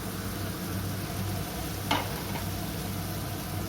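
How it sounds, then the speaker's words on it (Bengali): Fried chicken being stirred in a hot pan with chopped coriander leaves and chopped green chilli, a steady low sizzle with a soft scrape of the spoon partway through. "ভালো করে মিক্স করে নিলাম।"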